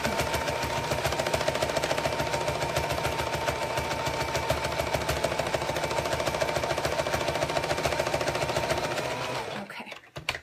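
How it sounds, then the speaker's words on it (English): Sewing machine running steadily while stitching in the ditch along a seam on a zipper project, a continuous close mechanical whir with rapid needle ticking that stops abruptly near the end. "basically stitch in the ditch of this one that I've already got, which just means I'm stitching on the seam"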